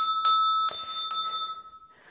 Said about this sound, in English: this original bell was rung from down in Madame's bedroom